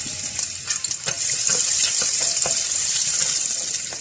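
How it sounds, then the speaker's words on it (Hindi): Garlic frying in oil in a pot, a steady bright sizzle held close with a few scattered stirring clicks early on, no speech. "इस लहसुन को डाल के इसको लाइट गोल्डन फ्राई कर लेंगे।"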